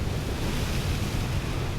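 Water spraying from Divine Beast Vah Ruta in Zelda: Breath of the Wild, a steady rushing wash of spray like surf, constant and fairly loud for the short stretch with no voices.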